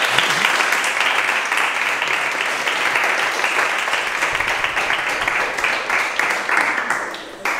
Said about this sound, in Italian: pagati anche loro per applaudire